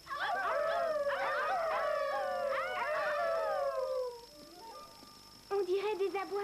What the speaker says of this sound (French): On dirait des aboiements. Un chien.